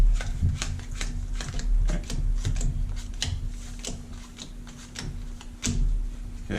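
Cards are drawn and handled in a tabletop card game, a rapid run of soft close clicks and snaps on the table, uneven in rhythm and without speech.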